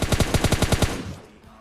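Rapid automatic gunfire in PUBG Lite, a burst of about nine evenly spaced loud shots in quick rhythm, then a fading tail.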